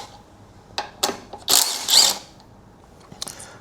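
Tightening a brake caliper on a Honda CB500X motorcycle with hand tools at home: several short mechanical clicks and ratcheting bursts, close and fairly loud, with a couple of longer grinding runs in the middle and no talking.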